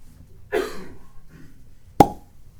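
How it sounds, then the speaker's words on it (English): A single sharp cork pop rings out from a Hardin's Creek bourbon bottle, loud and close, with a brief rustle of handling just before. "let's hear what we got cork pop wise"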